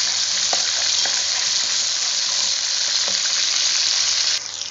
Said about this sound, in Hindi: अब इसमें हमें अदरक लहसुन का पेस्ट और सूखा मिर्च मोटी कुटी ये तीनों मिला के थोड़ा सा फ्राई करते हैं।